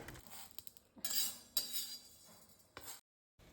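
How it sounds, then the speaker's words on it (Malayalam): Roasted chana dal being scooped out of a pan for a Kerala-style homemade sambar powder, with a few sharp metallic scrapes and clinks of a spoon against the pan, close and fairly quiet, no talking. "ഇനി ഇതും നമുക്ക് കോരി മാറ്റി വെക്കാം."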